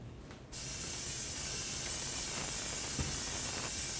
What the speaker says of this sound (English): So I'm going to just do a nice spray at the bottom of my pot.